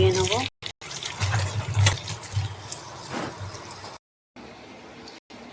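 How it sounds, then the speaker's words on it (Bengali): Taro leaves being rinsed in water before pressure cooking, giving a running, splashing wash with short gaps and breaks, fairly near and steady. "কচু শাকগুলো আগে আমি ভালো করে ধুয়ে নেব।"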